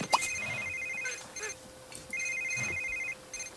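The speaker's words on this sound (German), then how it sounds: "Telefon. Von wem?" An electronic telephone rings in The Sims 3, two sustained trilling rings separated by a pause, moderately loud under game sounds while someone talks over it.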